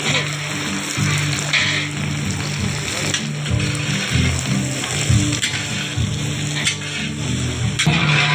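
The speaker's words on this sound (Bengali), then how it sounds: "পেঁয়াজটা দেওয়া হচ্ছে, এখন রসুনটা দিচ্ছি।" About 14 kilos of onions tumble into a huge pot of hot oil for a 60-kilo meat curry, throwing up a loud, dense, rain-like sizzle that roars steadily throughout with faint stirring scrapes.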